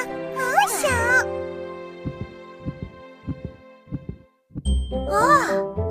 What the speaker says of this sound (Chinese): 心跳声也很小。